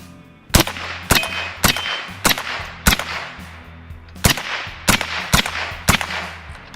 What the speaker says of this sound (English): I'm gonna shoot at the steel down there, and we'll see how many we can get on target.